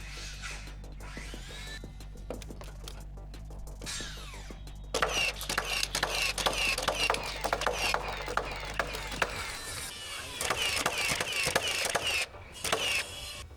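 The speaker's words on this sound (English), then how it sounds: "After nailing our header on" A double 2x12 header is nailed onto 6x6 posts during a garage build. Quiet mechanical clicking gives way to a loud run of sharp, rapid impacts with brief pauses, close by and without speech.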